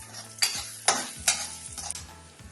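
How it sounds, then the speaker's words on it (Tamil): Raisins sizzling in hot ghee while being stirred, with a few sharp scraping strokes of a spoon against the pan over a steady crackling fry, close up and fairly quiet. "இந்த திராட்சை பழமும் வறுபட்டு நல்லது."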